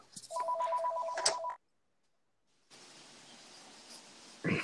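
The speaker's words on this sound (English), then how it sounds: "Whose phone is this?" A mobile phone rings with a short electronic trilling burst, then a silent gap before steady background hiss returns and a brief thump ends it, with no one talking.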